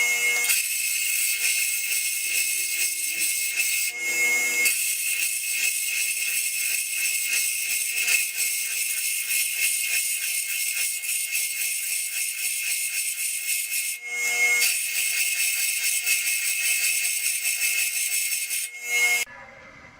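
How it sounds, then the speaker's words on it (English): A grinder grinds down a bolt on a Hayabusa sand rail brake job, giving a loud, harsh, continuous high-pitched grinding roar with two brief pauses before it cuts off at the end. "we're gonna go to the grinder, we're gonna grind this bad boy down"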